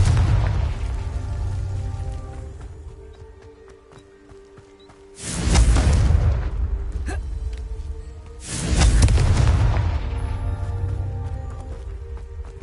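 Two heavy blasts from the Confringo fire spell in Hogwarts Legacy, each a deep booming burst followed by a rumbling tail, spaced a few seconds apart over ambient game sound.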